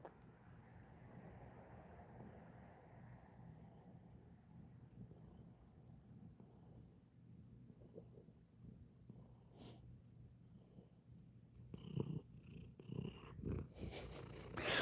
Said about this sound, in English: A purr does sort of sound like a snore